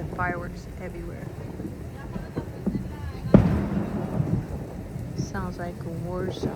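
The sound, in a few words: fireworks exploding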